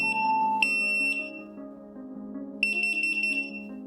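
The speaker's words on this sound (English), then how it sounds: "Now once it's done beeping, the 3-in-1 smoke heat and CO detector is now paired into the panel" A 3-in-1 smoke, heat and CO detector beeps during pairing with a control panel: a few sharp, piercing electronic tones, close and loud, with a pause between bursts.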